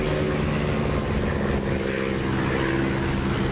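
A propeller fighter's piston engine drones loud and steady in a DCS flight simulator as the prop pitch is pulled back toward 2,700 RPM, a constant throbbing roar with no voices.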